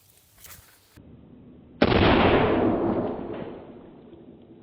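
A firecracker set off by a non-electric shock tube without a detonator: a sharp bang bursts out after a brief quiet, followed by a long hissing, crackling decay that slowly fades.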